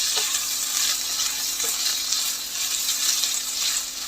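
Flat bean pods (walachya shenga) sauté in a pan with a dense, continuous close-up sizzle that stays loud and even throughout, with faint stirring movement underneath.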